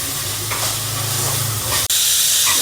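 Chopped onions sizzle and hiss steadily in a hot pan with oil, a continuous close frying crackle with a brief stir or clatter near the end, no one speaking.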